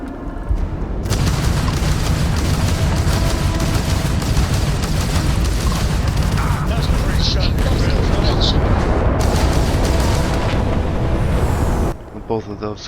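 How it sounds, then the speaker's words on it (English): Starfield space combat with missile launches and explosions in a dense, loud rumbling roar of booms and blasts that runs nearly the whole time, cutting off abruptly near the end, with a voice talking over it. "If you can keep the enemy ship centered on the HUD, we can lock in to fire a homing missile."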